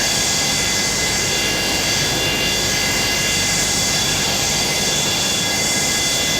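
A Boeing 727-200F freighter's jet engine in Microsoft Flight Simulator spools with a steady, loud, broadband roar and high whine, constant and alone with no talking.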